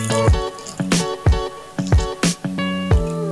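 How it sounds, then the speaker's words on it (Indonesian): Sambal sauce is poured over freshly fried fish, giving a series of wet, squelchy drips and splats about every half second, close and fairly loud, with no speech. "Langsung kita sambalnya tadi ini langsung kita siram ya."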